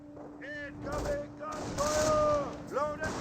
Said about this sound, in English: MG42 does find some hits there